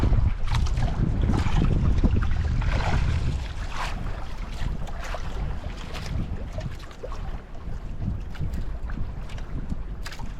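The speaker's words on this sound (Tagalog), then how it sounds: "Barko." A boat pushing through a strong current, with a dense, continuous rush of water and wind buffeting the microphone, loud and close throughout, no voices.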